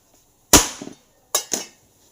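Raw mango being chopped into pieces with a knife on a board: three sharp, close knocks, the first followed by a short scraping rattle, no talk.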